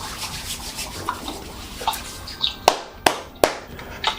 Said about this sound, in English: let me start by throwing some Florida water on my hands